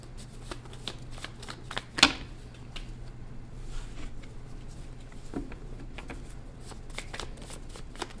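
Tarot cards being shuffled close up, a continuous run of quick riffling bursts with a sharper snap partway through, fairly quiet with no talking.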